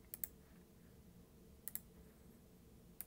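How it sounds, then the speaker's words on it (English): A handful of crisp computer keyboard clicks in short clusters of two or three keystrokes, spaced over a quiet room, close and fairly faint, while a spreadsheet formula is typed. "I'm going to type in average"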